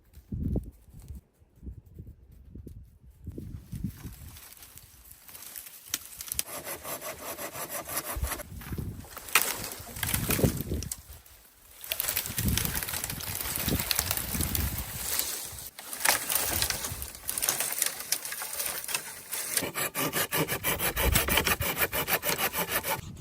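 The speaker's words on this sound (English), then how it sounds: "The man saws and splits dry branches into manageable firewood" Dry branches are sawn by hand into firewood, long rasping strokes of the saw repeating in a steady rhythm, close and fairly loud, with brief pauses and rubbing scrapes between the runs.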